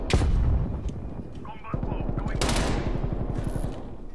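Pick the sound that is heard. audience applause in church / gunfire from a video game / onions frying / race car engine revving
gunfire from a video game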